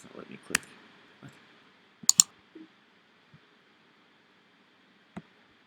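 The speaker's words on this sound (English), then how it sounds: "it's not letting me click" A computer mouse gives a handful of quiet, sharp clicks at irregular intervals, some in a quick pair, with near silence between them.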